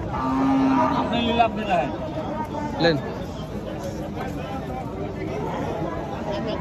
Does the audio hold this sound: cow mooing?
yes